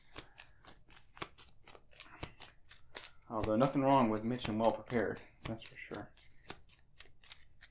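Playing cards for the Arkham Horror card game being shuffled close up in a rapid series of crisp riffles and snaps, with a person talking briefly partway through.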